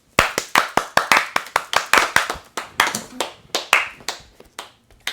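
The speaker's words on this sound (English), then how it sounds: "let's give ourselves a round of applause" A brief round of clapping from a small group, a quick run of close, sharp hand claps that thin out toward the end.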